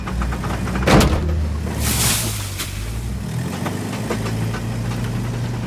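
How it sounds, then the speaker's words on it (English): A car's gearbox grinds and knocks under a steady, loud engine drone, with a sharp burst near the start and rough mechanical rattling continuing throughout, no voices. "That's my gearbox."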